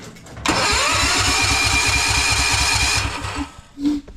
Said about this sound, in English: I've got the gas turned off, it's not gonna start, but I'll just show you turning over.